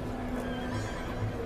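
A horse whinnies over a steady background of hooves and ambient noise, the sound continuous and moderately loud throughout with no speech.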